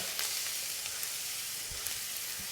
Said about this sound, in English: And you can hear that really nice sizzle